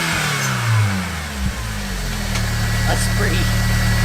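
BMW Z3 engine revving through a cheap eBay exhaust fitted with a DIY resonator, a rough, throaty note climbing and falling in continuous revs, loud and close, with brief sharper blips.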